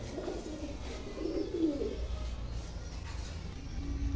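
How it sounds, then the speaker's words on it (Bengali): A Royal Teddy pigeon coos close by in two soft, throaty rolls, the second fuller, over a low steady background hum. "মার্শাল্লাহ কোয়ালিটিফুল কবুতর রয়্যাল টেডির দেখেন"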